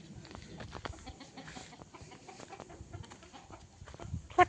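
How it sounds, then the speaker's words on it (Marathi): Free-roaming chickens in a Konkan village cluck in short, scattered bursts among ambient outdoor noise, moderately close, with no talk over them. "बघा, कोंबडीच फिरत आहेत."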